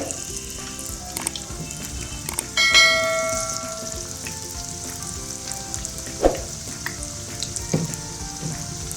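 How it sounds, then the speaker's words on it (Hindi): Chicken sticks fry in hot oil over a low flame, giving a steady close sizzle with a brief louder burst of crackling near the start and a few small pops later. "लो फ्लेम पे इसको फ्राई करना है"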